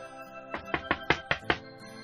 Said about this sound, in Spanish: Sonó la puerta